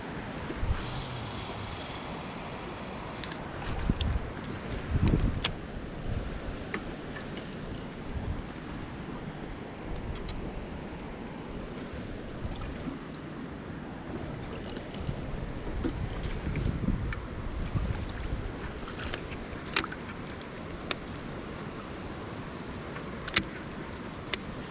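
Wind gusts over a lake at Santee Cooper around a boat anchored in shallow water, a constant low rumble with scattered knocks and rattles from the boat.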